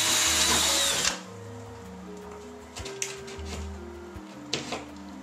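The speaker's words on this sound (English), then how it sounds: "we're going to drill a pilot hole" A power drill bores a pilot hole up into a ceiling for a recessed light, a loud whine at first that stops abruptly, followed by quieter intermittent clicks and knocks.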